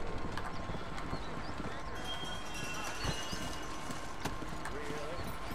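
Horse hooves clip-clop in a quick galloping rhythm in the video game Red Dead Redemption, close and steady, with scattered clatter and a faint whinny-like sound.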